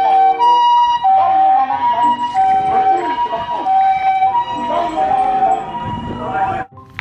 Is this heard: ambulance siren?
yes